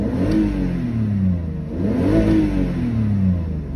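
A car engine with low compression revs hard in repeated rising and falling swells, loud and close, the pitch climbing and dropping twice.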